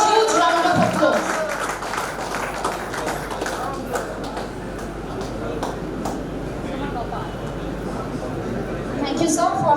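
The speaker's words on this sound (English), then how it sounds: "All of you are asked to welcome sir with a huge round of applause" Audience applause welcoming a guest at an AIPNBOA union meeting in Murshidabad: dense, steady clapping from a crowd, fairly loud and sustained throughout, swelling again at the end, with faint voices mixed in.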